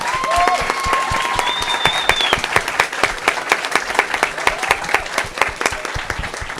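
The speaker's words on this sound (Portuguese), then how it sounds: "eu queria pedir uma salva de palmas pela equipe da Gravity" A crowd applauds steadily, many hands clapping in a dense, continuous burst with a few sharp individual claps standing out.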